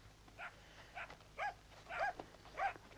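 Dog barking in a scene from the Hungarian film Jób lázadása, four short separate barks spaced about half a second apart, moderately close, with no talk over them.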